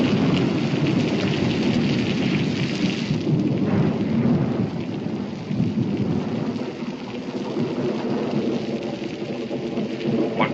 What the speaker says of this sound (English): when this storm lets loose